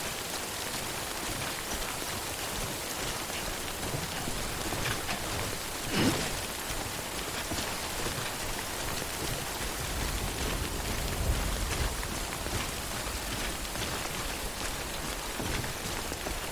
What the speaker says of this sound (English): Alright, let's get out of this rain.